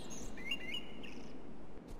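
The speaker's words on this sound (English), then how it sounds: "All these birds make the game so beautiful." Birds chirping in the video game Salt, a few short, faint tweets over a steady ambient background hiss.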